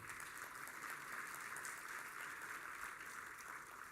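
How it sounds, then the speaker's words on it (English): An audience applauds during the plenary session of the AfCFTA Digital Trade Forum 2025, a steady, even patter of many hands clapping that carries on without pause, fairly soft and distant, with no voices over it. "ladies and gentlemen, a big round of applause for the AfCFTA Secretariat"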